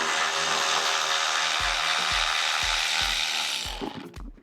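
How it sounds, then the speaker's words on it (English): Ratchet wrench loosening 10mm bolts on a Chevrolet Silverado while running boards are installed: a loud, steady broadband whir with a regular string of low knocks about every half second, fading out near the end. "we're going to go ahead and get started on removing this hardware"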